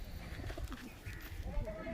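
Soft, low coos from a Giribaz pigeon in a loft repeat a few times at close range, faint against a quiet background.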